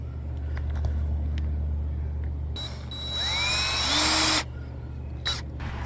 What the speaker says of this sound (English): Now I'm going to put them screws in all the way.